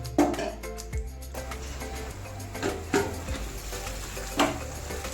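Food cooks in oil in a covered pan with a little water until the oil separates, giving a steady low sizzle broken by a few sharp utensil clinks against the pan.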